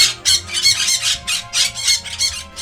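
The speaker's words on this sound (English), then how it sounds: "Granny Pig loves her parrot." A cartoon parrot belonging to Granny Pig in Peppa Pig squawks loudly and close, in a rapid series of about eight harsh, shrill bursts with no talking.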